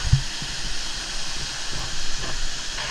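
Steady rushing hiss of a waterfall at a Balinese Hindu purification site in Ubud, constant broadband roar at moderate level with a few faint thumps and no talk.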